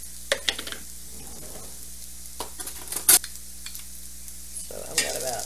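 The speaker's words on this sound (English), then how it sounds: "We're gonna make a gravy with their onions right here." Onions for gravy sizzle softly in a pan, with occasional scrapes and stirring clinks of a utensil and a brief sharp metallic clatter near the middle; faint and intermittent, no talking.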